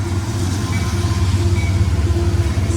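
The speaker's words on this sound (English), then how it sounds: "there's a train." A train rumbles past close to a shop, a loud low droning roar with a steady hum and a pulsing rhythm, heard alone without any talking.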